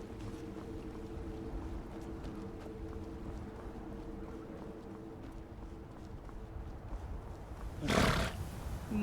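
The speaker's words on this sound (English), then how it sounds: "Yes, I hear you, horsey. I hear the horsey." A horse in the video game Skyrim gives a single sharp neigh near the end, loud against a quiet, steady ambient game background.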